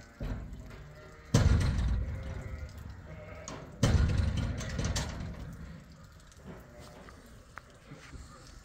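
Sheep on a farm let out two loud, rough bleats a few seconds apart, close by, with quieter animal noises and low background sounds between them.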